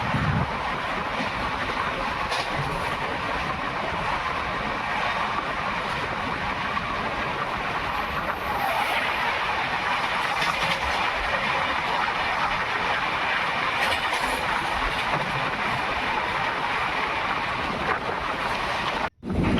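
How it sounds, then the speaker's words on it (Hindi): The 18574 Bhagat Ki Kothi–Visakhapatnam Express rolls through Rajasthan toward Jaipur: a steady, loud rumble and rush of wheels on track with wind noise, continuous throughout and briefly cut off at the very end. "तो ट्रेन बढ़ रही है राजस्थान की राजधानी जयपुर जंक्शन की तरफ"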